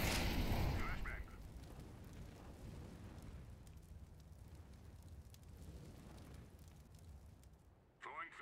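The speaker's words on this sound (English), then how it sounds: "Throwing flashbang." A flashbang grenade goes off in a military shooter video game with a loud, close blast, followed by a long rumbling, hissing tail. Voices talk over the sound.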